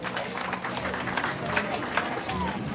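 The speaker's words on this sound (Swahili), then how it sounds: "Let's clap for Hilary Otieno" Scattered clapping from a graduation audience at Light of Hope Academy in Kisumu, a steady patter under crowd murmur and talk.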